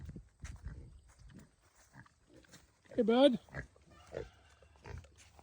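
Pigs on a farm give a short, close grunting squeal around the middle, with someone speaking softly before and after.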